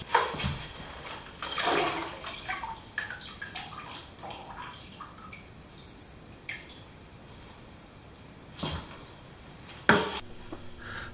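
Water splashing and pouring into a mixing bucket for several seconds, about 6 quarts measured for thinset mortar, with a few clunks and knocks of handling, fairly close with no talking.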